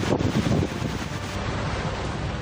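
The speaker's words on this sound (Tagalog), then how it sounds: "Ganito kalakas ang ulan at hangin dala ng bagyong Paulo nang maglandfall ito sa Dinapigue, Isabela kaninang umaga." Typhoon Paulo makes landfall in Dinapigue, Isabela, its strong wind and rain producing a steady, loud broadband roar with gusty buffeting against the microphone, no voices present.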